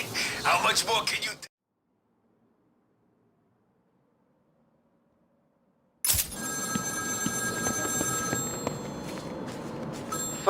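A telephone rings in the Batman: Arkham City video game. A loud bell-like burst is followed by silence, then a sharper ring with sustained electronic tones and game ambience.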